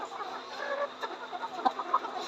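Layer pullet chickens about 110 days old on a farm make soft, overlapping clucks and murmurs, with a few sharper calls standing out over a steady low farm hum.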